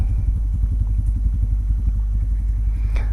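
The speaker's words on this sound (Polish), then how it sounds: "Motorek pracuje, chodzi." A Junak motorcycle engine idles steadily and close by, a low, even chugging throb that holds without any revving.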